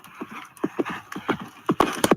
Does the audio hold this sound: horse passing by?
yes